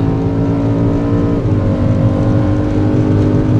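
A loud, steady engine drone from a BMW M car driving at speed on the Le Castellet race track, continuous and close throughout.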